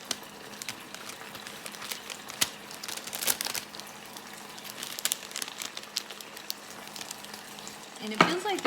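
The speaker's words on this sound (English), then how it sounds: "we're going to add in half of this green onion topping and stir that" Green onion topping stirred into Korean beef udon noodles frying in a pan, a soft continuous sizzle with scattered clicks and scrapes of the utensil and a louder burst of stirring near the end.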